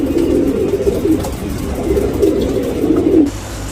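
A pigeon coos in a steady, low, continuous burbling close to the listener, with no voices over it.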